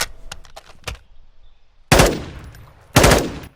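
Gunfire in Call of Duty Modern Warfare 2: a quick burst of sharp shots at the start, then two loud, close blasts about a second apart, each ringing out with a long decaying tail.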